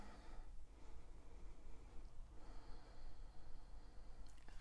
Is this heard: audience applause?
no